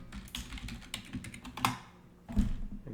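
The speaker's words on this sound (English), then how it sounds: "I'll type it in here." A password is typed on a computer keyboard: a quick, irregular run of soft key clicks at close range, ending in a firmer keystroke as if pressing enter, with no speech.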